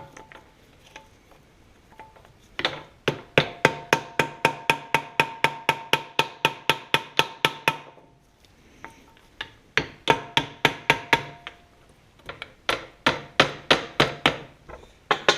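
Hammer tapping on a power steering part from a 1966 Ford Galaxie 500 under restoration, in rapid bursts of sharp metallic blows with short pauses between runs, close and loud with no talking.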